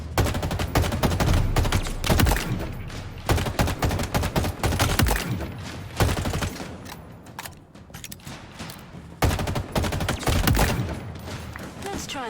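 Rapid live-round gunfire from the video game Halo Infinite, dense bursts of shots nearly continuous with short pauses, loud and close, with brief voice lines beneath.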